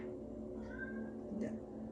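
A house cat meows over a steady droning background, with a drawn-out tonal cry near the middle and a short second call toward the end. The cat sounds fairly close.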